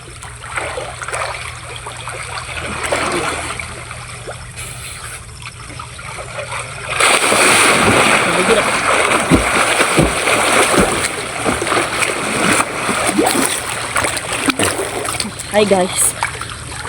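People bathing and splashing in water at a scenic paradise spot, a steady rush of splashes and sloshing that grows louder and busier midway, with voices talking over it.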